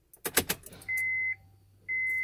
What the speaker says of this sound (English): Here we are inside the car, about to start it and see if that fixed the problem.